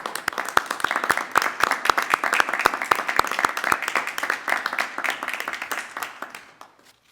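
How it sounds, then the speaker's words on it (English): A small group at a virtual medical school diploma ceremony claps for the graduating class of 2020, sharp claps at a steady, fairly quick rhythm for about six seconds before tapering off into quiet. "I would like the platform group to give a round of applause to all the graduates of the class of 2020"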